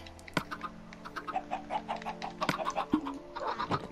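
Minecraft chickens cluck in short, repeated chirpy bursts in the game, with a few sharper clicks mixed in and no speech.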